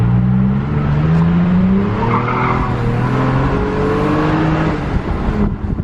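A deep, loud Toyota Tacoma pickup exhaust, newly fitted high-clearance, drones and revs up close, its pitch climbing and dropping as the engine works hard at high RPM, with no talking.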